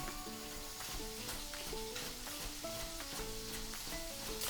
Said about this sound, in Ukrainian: бекон каже, що він смажиться